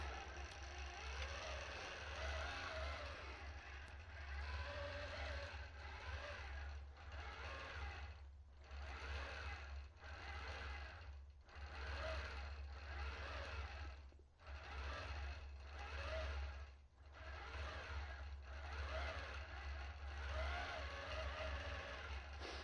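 A computerized quilting machine stitches an edge-to-edge pattern with a steady, fast mechanical whir. A low hum runs underneath, and the stitching rhythm pauses and resumes as the head changes direction. The sound is close, with no talking.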